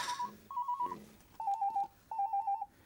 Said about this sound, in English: There's something very bleak about this running out of battery sound.